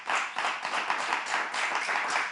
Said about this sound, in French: On va applaudir et acclamer ici Monsieur Joël Missebouko